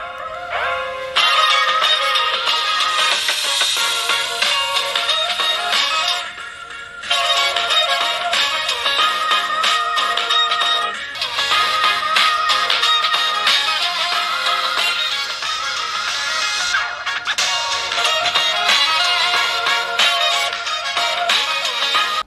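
Music sample played through the speakers of Poco M5 and Poco M5s entry-level phones, steady and bright with a thin low end, running about twenty seconds with a couple of brief dips and no talking.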